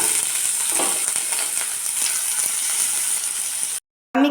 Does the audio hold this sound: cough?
no